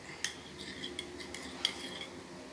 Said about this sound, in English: Stir a bit